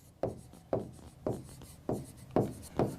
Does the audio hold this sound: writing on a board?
yes